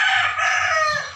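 A rooster crows once, a loud close sustained call with no talk.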